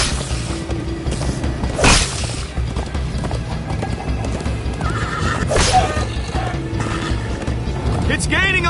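A horse whinnies loudly twice over steady clip-clopping hooves and rumbling game noise in Minecraft: Story Mode, with occasional mechanical clanks.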